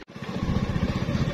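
A motorcycle engine runs steadily while riding on a rough rural road after light rain, a close, continuous pulsing drone with no talk.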